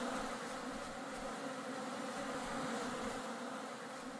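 Bees buzz in the survival video game Vintage Story, a steady, dense hum of many insects close by that continues without pause, with no talking.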